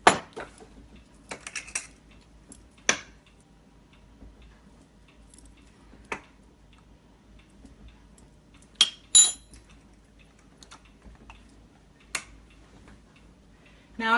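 A tablespoon scooping powdered milk clinks against a dish or container in sparse, sharp ticks separated by quiet gaps, close and fairly soft.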